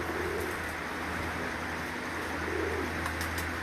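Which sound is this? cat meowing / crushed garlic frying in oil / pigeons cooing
pigeons cooing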